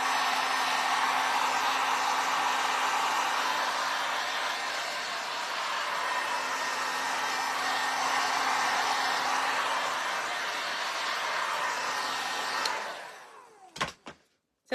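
A hair dryer blows steadily and loudly for about twelve seconds to dry wet paint on a grapes-to-sunflowers craft flip, then clicks off, followed by a few handling knocks.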